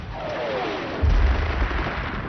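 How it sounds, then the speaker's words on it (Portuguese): Low, rumbling gunfire from a World War II battle artillery barrage, with dull thuds and a heavier boom about a second in, muffled and continuous like archival wartime footage. "Montgomery lança sua ofensiva com uma barragem de artilharia preliminar"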